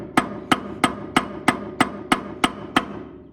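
A hammer taps on the seized shaft of a Ford 8N tractor soaked in penetrating oil: nine sharp metallic strikes at a steady, even rhythm, close and clear with a little ringing after each.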